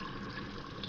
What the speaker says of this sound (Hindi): थोड़ा सा पानी और डाल देंगे इसमें, मिक्स कर देंगे इसको